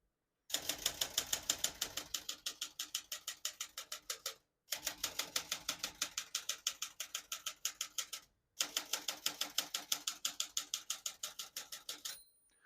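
Steady rapid keystrokes clack from a 1974 Olympia Traveller De Luxe manual portable typewriter in three bursts, separated by short pauses, close and crisp with no talking.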